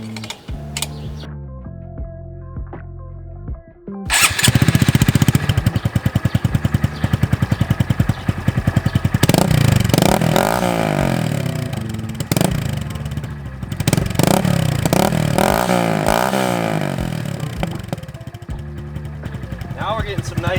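A Honda Grom motorcycle runs with the exhaust baffle cap removed, starting up after a quiet stretch and then revving loudly up close, with rapid crackling pops and a sputtering idle between throttle blips.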